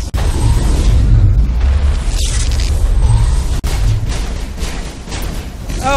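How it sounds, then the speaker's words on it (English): Grenade blast in the Mass Effect shooter game, a dense rumbling boom over continuous in-game combat noise and low-end rumble, loud throughout with no clear separate onset. "maybe I can throw a grenade"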